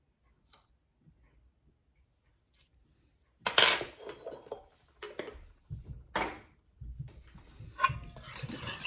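Whisk scraping and clinking against a bowl as scone ingredients are mixed, starting after a few seconds of near silence, then continuing in uneven bursts of close, bright ticking strokes.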